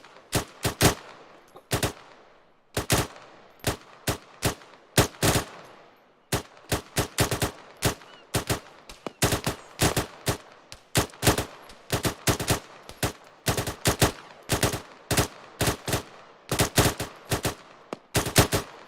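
Rapid rifle and machine gun fire in Arma 3 arctic training, sharp loud bursts repeating in quick clusters for the whole stretch with brief gaps, no talk.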